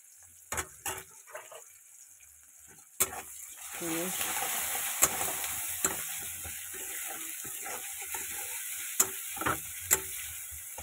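Chicken with onion and spices sizzling in a pan and stirred, a steady frying hiss broken by sharp scrapes and clatters of a spatula, close and fairly loud.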